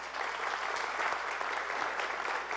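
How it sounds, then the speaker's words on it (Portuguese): A church congregation applauds the Lord during a sermon, an even, continuous patter of many hands clapping at moderate loudness with no break. "Pode aplaudir o Senhor, irmão"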